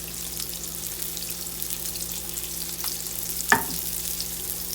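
Salmon fries in a pan on low heat with a soft, steady sizzle, close and even, broken once by a brief clatter near the end, with no talking.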